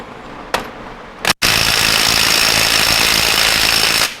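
A Ryobi impact wrench hammers at 5/8 bolts on an 8.75 Mopar differential, giving a short blip, then a sustained loud rattling burst that runs for nearly three seconds before stopping.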